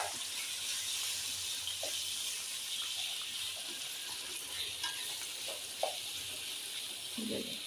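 Spicy chicken fries in coconut oil with curry leaves as it is stirred, a steady soft sizzle running throughout with occasional quiet scrapes and clinks of the spoon against the pan.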